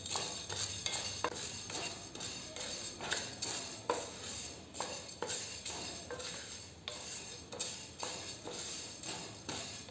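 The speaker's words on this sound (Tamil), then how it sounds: "இந்த மாதிரி வறுத்துக்கிட்டே இருங்க கொஞ்சம் கொஞ்சமாக நம்மளுக்கு கலர் மாறி வரும்" Curry leaves dry-roasting in a pan, with a spoon repeatedly scraping and tapping against the metal in a steady stirring rhythm, close and moderately loud, with no talking.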